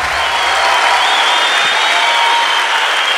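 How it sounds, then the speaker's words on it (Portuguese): Comedy show audience applauding a performer's introduction, a steady, loud wash of clapping with faint cheering mixed in throughout. "Uma salva de palmas para João Seabra!"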